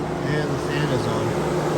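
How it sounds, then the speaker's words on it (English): A car's electric cooling fan keeps running after the engine is switched off, with a coolant temperature sensor fault and the check engine light on. It makes a steady, close whirring hum with a low drone beneath it. "And the fan is on."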